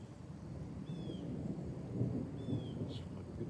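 Low, distant rumble of thunder from a lightning strike as a summer storm rolls in, a steady outdoor roar with a couple of faint high chirps, no voices.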